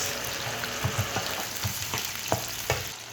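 Red onion frying in a pan for a homemade beef steak dish, a steady close sizzle with scattered crackles and a few soft clinks of stirring, no voices.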